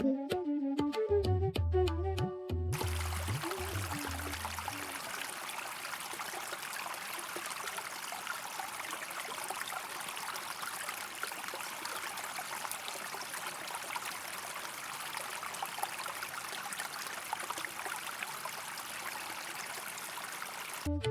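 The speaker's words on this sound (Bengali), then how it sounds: "নদীর পানি ঝিলমিল করছে বাতাসও বইছে" Steady broadband rush of flowing river water, continuous and fairly loud, after a few seconds of brief musical tones at the start; part of a Bengali cartoon.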